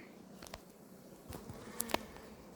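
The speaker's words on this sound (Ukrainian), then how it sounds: "Ось уже є бджолки молоденькі, такі видно, вони сіренькі, пухнастенькі, які ще лише повилуплювалися." Honey bees buzz softly and steadily over a hive brood frame with freshly emerged young bees, a faint continuous drone with a few light clicks and taps near the end.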